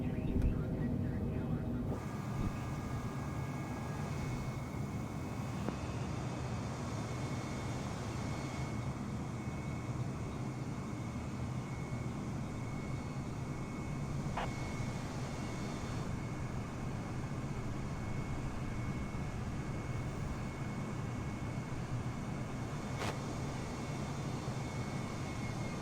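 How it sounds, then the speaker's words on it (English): An A320neo jet engine droning steadily as the airliner climbs after takeoff in Microsoft Flight Simulator on Xbox Series X, a constant even rumble with a couple of brief tonal cockpit blips. "There we go, we've just lifted off, we've got the turn, which we are turning now."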